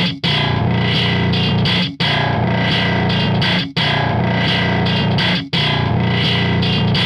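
Bass guitar riff for a brutal thall tone, fed through heavy distortion and saturation: a thick, loud, continuous wall of grinding, fuzzy bass repeating in a loop with brief gaps between phrases, no voices.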